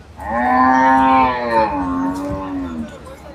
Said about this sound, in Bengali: এই যে দেখো গরু